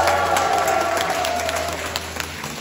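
A hospital audience applauds at a farewell concert in a Seoul hospital, steady dense clapping filling the room, loud and close, with faint crowd murmur underneath, tapering slightly toward the end.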